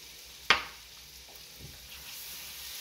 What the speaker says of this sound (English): we have two big cloves of garlic right in the pan